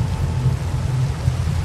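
Minecraft thunderstorm ambience: a steady hiss of heavy rain over a low continuous rumble of thunder, dense and unbroken, with no voices.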